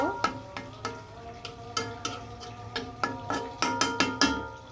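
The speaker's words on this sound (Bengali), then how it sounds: "মলাই মাছগুলো কিন্তু আমি খুব সুন্দরভাবে কষিয়ে নিব" Small molai fish are stirred and sautéed in a pan, with repeated sharp scrapes and clinks of a spatula against metal over a soft background sizzle, coming in an irregular close rhythm.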